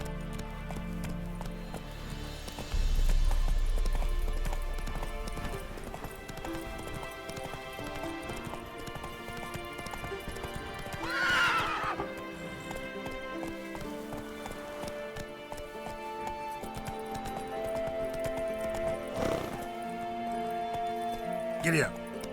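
A horse in The Witcher 3 trots with rhythmic clip-clop hoofbeats, heard alongside game music and ambience, while a rider's voice urges it on and another voice talks.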